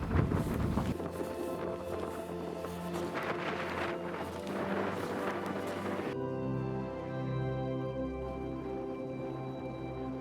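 A strong north wind buffets a cyclist's microphone in heavy, rumbling gusts, followed by a steadier, whistling blow with tonal hum over the last few seconds.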